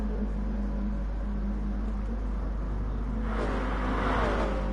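Steady engine drone from a GT86 race car in GT Sport, fairly quiet and continuous, swelling slightly toward the end as the car picks up speed.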